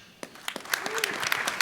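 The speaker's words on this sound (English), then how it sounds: "Actually, let's hold off on the applause." An audience at a diocesan church convention breaks into applause, a short patter of scattered claps that builds and thickens over under two seconds, with a faint voice partway through.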